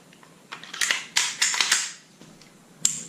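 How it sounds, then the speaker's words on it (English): Canik TP9SF pistol being reassembled, with a series of sharp metallic clicks and slide clacks clustered near the start and middle and one loud snap near the end, close up with no talk. "Alright, so we're going to put it back together."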